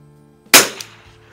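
A Lakefield 91T .22 bolt-action target rifle strikes a primer with a single sharp, close crack that rings out briefly and fades, alone against a quiet background hum.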